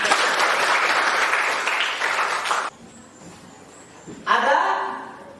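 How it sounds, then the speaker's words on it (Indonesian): High school students in a biology class applaud their classmates: a loud burst of clapping that stops abruptly, a quiet pause, then a second strong round of applause. "Beri tepuk tangan pada teman-teman"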